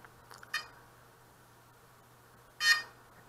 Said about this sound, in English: That beep, beep, that was the gyros initializing.